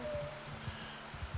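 In-game rain from the Realm of Thrones mod for a medieval battle game hisses steadily at a modest level, with faint patter and a low hum beneath, and no talking.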